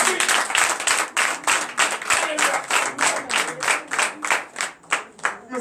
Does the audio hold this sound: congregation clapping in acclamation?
yes